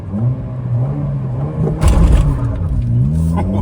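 Manual Honda GK hatchback on 95 gasohol with 15-inch wheels and a racing exhaust, accelerating hard in a speed test; a loud, close engine note climbs steadily, dips briefly at a gear change, then rises again.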